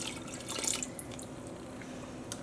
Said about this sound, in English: I want you to take this and pour it on